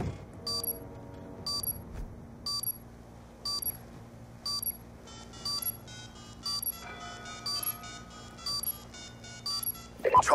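A planted bomb in a Counter-Strike match beeps steadily about once a second, with bright repeating electronic tones over a low game-noise bed, while people talk in the background.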